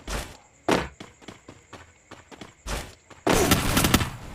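Gunfire in a competitive shooting video game, a series of sharp single shots spaced irregularly, then a sustained loud burst of rapid fire near the end, close and without talk.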